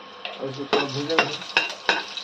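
Green chillies fried in a pan of oil for a spinach and chana dal sabzi, stirred with a utensil: four or five sharp scraping strokes over a soft, steady sizzle, close by.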